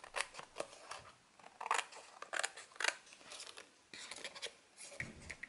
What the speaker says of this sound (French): je vais le faire au ciseau.